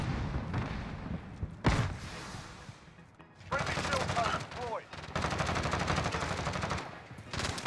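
Uzi submachine gun fire in the video game Call of Duty Modern Warfare comes in rapid automatic bursts, close and loud, separated by short gaps. Impact sounds and other game noise fill the gaps.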